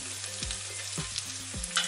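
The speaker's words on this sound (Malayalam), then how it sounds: "ഇനി ഇതിനെ ഒന്ന് വഴറ്റിയെടുക്കാം." Onions sautéing in a pan for Kerala chickpea curry, a soft close sizzle broken by a few scraping stirs at regular intervals, quiet and without speech.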